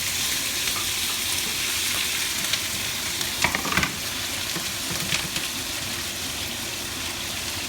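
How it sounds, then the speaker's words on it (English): Food and tofu sizzle steadily and loudly in a hot wok, with a few clanks and scrapes of stirring partway through. "now that our wok is hot, don't be afraid, but things are gonna start sizzling"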